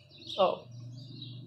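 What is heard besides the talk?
birds singing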